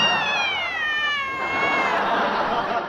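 A cat gives one long, loud, drawn-out caterwauling meow close by, its pitch sliding downward before trailing off, with no voices over it.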